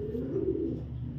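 A racing pigeon coos softly and steadily in a low, rolling murmur, close by and continuous, with no talking over it.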